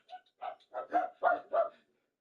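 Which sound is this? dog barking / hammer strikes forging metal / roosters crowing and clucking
dog barking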